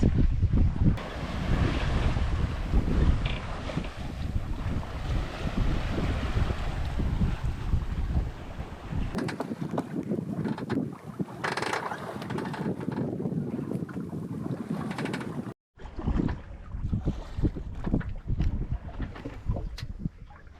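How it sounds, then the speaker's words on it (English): Sailboat slowly drifting in light wind at sea, sails flapping, with steady wind buffeting across the microphone and water washing against the hull throughout. One short dropout occurs, and there is no talk. "the sails are starting to flap a bit now"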